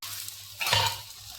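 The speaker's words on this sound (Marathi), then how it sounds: "असं छान भाजून घ्यायचं दोन्ही साईडला मस्त गोल्डन" A carrot and cauliflower paratha roasts on a griddle, a quiet hiss swelling briefly into a louder scrape and sizzle midway before settling back, no talk.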